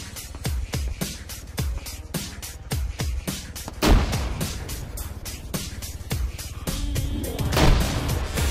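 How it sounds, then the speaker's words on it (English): Explosions and rapid shots keep going in Arma 3 combat, a steady run of sharp close cracks, with heavier booms around four and seven and a half seconds. "I'm gonna chuck in some grenades."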